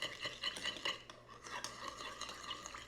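Vegan mayo is stirred briskly in a bowl to thin it out, with quick, steady scraping and clinking of a utensil against the dish, quiet and close, and no voices.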